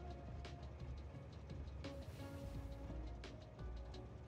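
Train rolling along in the Factorio video game, a continuous rumbling mechanical drone with a few soft transient clicks, steady and fairly loud throughout with no talk.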